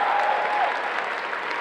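Continuous crowd applause rises from the audience at a Planet Comicon cosplay contest in Kansas City, a steady wash of many hands clapping, moderately loud and unbroken throughout.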